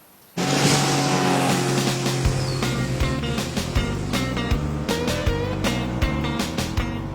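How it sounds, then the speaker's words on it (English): A two-stroke engine on full throttle, likely a small boat motor, starts abruptly and holds a loud, steady, buzzing drone near the listener, with rhythmic knocks and slaps repeating over it for about seven seconds. "two-stroke engine on full throttle"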